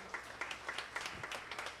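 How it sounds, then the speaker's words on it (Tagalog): Church congregation applauding during a sermon: quiet, distant, continuous rhythmic clapping from a group of people, short and steady. "malakas na palakpak naman sa Panginoon"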